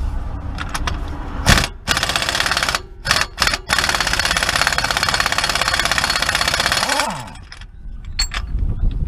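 An air impact wrench with a 1¼-inch socket hammers loose the pinion nut on a 2006 Jeep Commander 2WD, sounding as a loud sustained rattling burst with brief stops and restarts, then winding down and going quiet.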